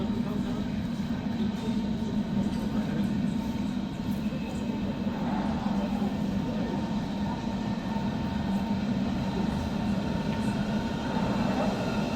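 Berlin S-Bahn S15 train running between Hauptbahnhof, Wedding and Gesundbrunnen: a steady, loud rumble and drone of the moving train throughout, with no talk.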